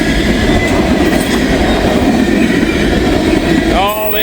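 A freight train hauling asphalt tank cars rolls past close by, a loud continuous rumble and rattle of wagons, ending with a squeal of wheels.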